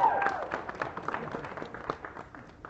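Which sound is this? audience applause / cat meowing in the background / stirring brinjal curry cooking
audience applause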